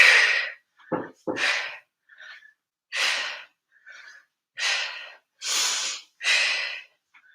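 Heavy breathing during a core workout, a series of loud, close, forceful breaths and gasps coming in separate bursts with short silences between them.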